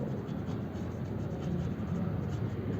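Chalk or marker scratching steadily on a board as a maths proof is written out, continuous close scraping strokes with no talking.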